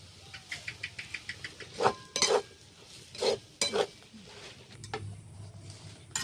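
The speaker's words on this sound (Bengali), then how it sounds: "একসাথে নেড়ে আমি ডালটাকে ভেজে নেব" A spatula stirs and scrapes ground lentil paste frying in a pan for hing dal puri, with quick rhythmic taps followed by several heavier scraping strokes and a soft sizzle, close and clear with no talk.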